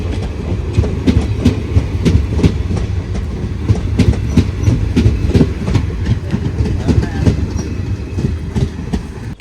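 A train passes close by on the busy Ernakulam–Thrissur line in Kerala, its wheels clattering in a steady clickety-clack rhythm over a loud continuous rumble for the whole stretch.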